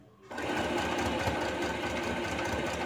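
A YOKO YK1803 portable mini sewing machine runs a long straight seam, starting after a brief quiet moment and then whirring steadily and loudly with a fast, even needle rhythm throughout.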